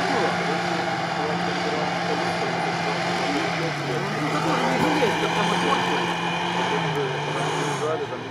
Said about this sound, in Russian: Ну, он просто оборотистый у него мотор.